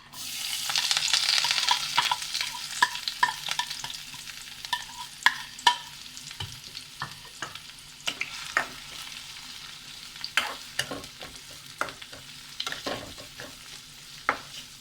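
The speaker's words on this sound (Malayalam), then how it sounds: "ഈ സവാളയൊക്കെ നല്ല ഒന്ന് വാടി തുടങ്ങണ വരെ ഒന്ന് വഴറ്റണം" Onions sizzle and crackle in hot coconut oil while a utensil stirs with repeated scraping clicks, steady and close, with no talk.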